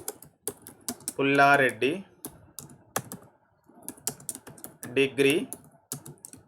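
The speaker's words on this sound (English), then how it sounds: "So now I have opened Excel window now. So here I am typing our college name" Fingers tap out text on a computer keyboard into an Excel spreadsheet, a quick irregular run of crisp clicks close by, with someone speaking in between the bursts of keystrokes.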